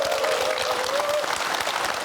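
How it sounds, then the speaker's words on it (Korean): Dense, steady applause from a town hall audience in Boseong County, a full crowd clapping continuously with a faint tonal sound running through the first half. "박수 한번 주시죠."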